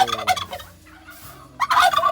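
Turkeys gobble loudly close by, two bursts of rapid warbling calls separated by a short quieter gap.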